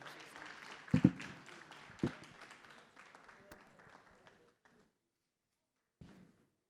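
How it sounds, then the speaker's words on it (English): An audience applauds at a conference event on Africa's creative industry, a broad burst of clapping with a few sharp claps standing out, thinning and fading away over about four seconds, then near silence broken by one last brief patter. "A bigger round of applause for her."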